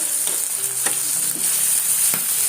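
Minced keema with spices, green chillies and lemon juice sizzles steadily in a hot pan, with a few soft scraping stirs breaking through the constant frying hiss.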